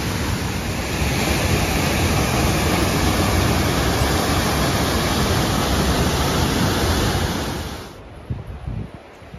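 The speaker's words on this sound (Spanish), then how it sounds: "Esta es la cascada a la que llegamos." Steady, loud rushing roar of a waterfall along a forest trail near Laguna Cañicura, constant broadband water noise that drops off and thins out near the end.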